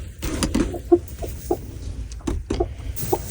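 A brooding hen sitting on a clutch of eggs gives a series of short, low clucks at irregular intervals, close by, with no talk over them.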